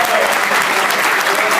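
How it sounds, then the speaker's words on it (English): A large crowd at a DJ trade expo bursts into sustained, loud applause, a dense wash of clapping that fills the whole moment. "could you please give them a round of applause,"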